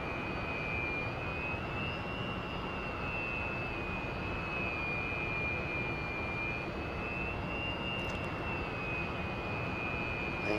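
A Su-27 jet engine in the DCS flight simulator runs throttled up, a steady, sustained roar with a constant high whine held throughout, heard alone.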